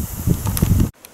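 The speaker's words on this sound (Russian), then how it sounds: "Ветер шумит." Wind blows outdoors in a village, a close rustling hiss that buffets the microphone unevenly for about a second before cutting off abruptly.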